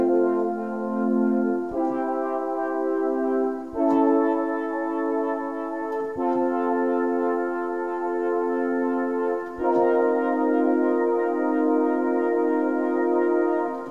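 Sustained Classic Pad chords from an Arturia Prophet-5 emulation, three synth layers stacked, changing chord every two seconds or so, warm, full and steady with no voices.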